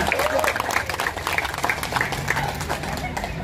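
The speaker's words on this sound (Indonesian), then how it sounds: "Tepuk tangan dulu buat Bang Marcel." Crowd applause for Bang Marcel at a volunteer post thanksgiving gathering in Tangerang Selatan, moderate clapping mixed with chatter and a voice over it.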